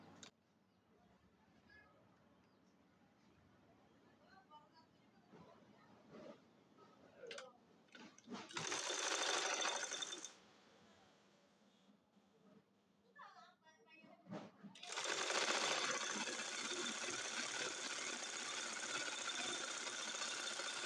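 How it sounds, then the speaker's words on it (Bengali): A sewing machine stitches the lower cuff of a sleeve on a two-color Naira dress, giving two loud bursts of rapid mechanical whirring separated by quieter ticking and handling noises. "এখন যে হাতার নিচের মুহুরিটা আমি সেলাই করে নিব।"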